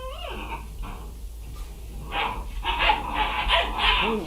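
Service-dog puppies bark, yip and whimper close by in a short, uneven run of cries that grows louder toward the end.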